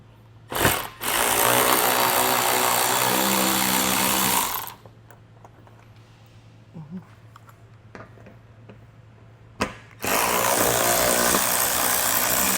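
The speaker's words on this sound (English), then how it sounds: "going to this recessed portion on the skid plate with an 8mm socket. We'll get this screw taken out" Power tool with an 8mm socket driving out a screw from the recessed skid plate of a 2021 Jeep Wrangler Unlimited: two loud, sustained whirring bursts, a long one at the start and another near the end, with quiet clinks of handling between.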